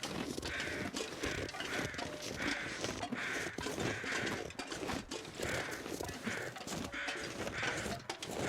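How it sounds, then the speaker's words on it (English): A bird in the wilderness of The Long Dark video game calls over and over at a steady, insistent pace, fairly faint, with soft crunching footsteps underneath. "Oh, hush, bird, you're annoying."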